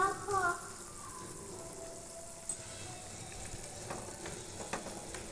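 Pieces of fish going into a pan with ground masala and kasuri methi for Nellore-style fish curry give a steady low sizzle. A few brief clinks and stirring scrapes sit over the frying hiss.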